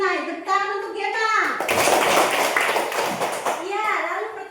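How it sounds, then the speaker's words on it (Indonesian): Classroom of Indonesian primary pupils clapping together for a classmate who answered correctly, a dense burst of hand claps in the middle, framed by a child's speech before and after. "Tepuk tangan untuk Gema."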